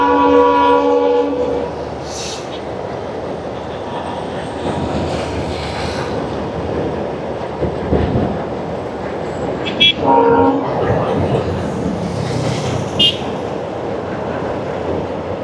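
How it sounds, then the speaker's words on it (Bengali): A train rumbles onto Pamban Bridge near Rameshwaram, its horn sounding in clear blasts over a steady roar of wheels and wind, with a further toot later as the cars roll past close by. "আমি বুঝতে পারছি এখনই ট্রেন আসবে"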